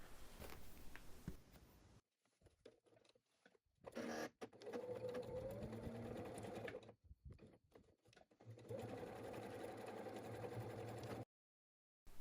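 A domestic sewing machine stitches the side bottom seams of a fabric bag with seam allowances clamped together, running in several sustained bursts with short pauses between them, close and steady, with no talk.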